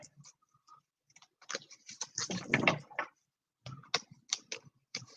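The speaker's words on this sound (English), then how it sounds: "I just shuffled these bad boys, Navina, and I got the same card." Tarot cards shuffled by hand during a live card reading, a run of quick crisp riffling clicks and flutters in close irregular bursts with short pauses, fairly quiet and alone.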